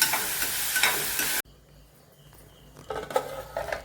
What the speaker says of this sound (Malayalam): 2-3 പച്ചമുളക് ആദ്യം ഒന്ന് വഴണ്ട് വരട്ടെ.